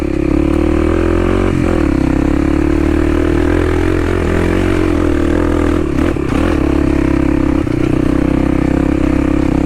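A Kawasaki KLX 300 dirt bike engine drones loud and close with a loose skid plate, revving and dipping briefly around midway, the steady buzz carrying a metallic edge.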